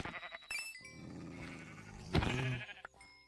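Sheep in the Minecraft modpack Hexxit bleat in a few wavering game calls, moderately quiet, one short bleat followed by a longer one, with small clicks and sound effects between them.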